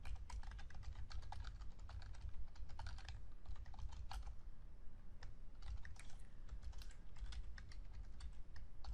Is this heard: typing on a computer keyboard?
yes